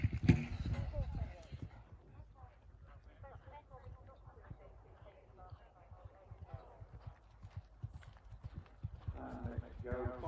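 Horse hooves clip-clop on the ground during an eventing cross-country ride at Barbury, a quiet, irregular patter of footfalls heard under a commentator's talk and a louder burst of noise at the start.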